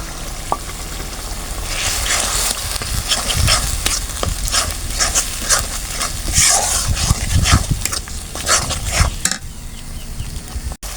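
Spices stirred into onion and tomato paste sizzle loudly in a pan for a broiler chicken curry, with steady scraping strokes and a continuous fry hiss, close up and without talk.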